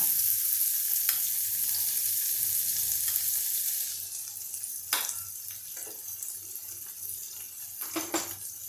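Chopped onion and tomato fry in hot oil for a dhaba-style palak paneer gravy, sizzling steadily up close, with a few light clinks and scrapes of a spoon against the pan and no one talking.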